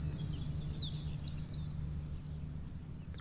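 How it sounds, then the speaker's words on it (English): Birds chirp and sing faintly in the distance along a river on a kayak trip from Boroughbridge to York, scattered high calls over a steady low rumble of wind and water. "especially with all the bird sounds in the background"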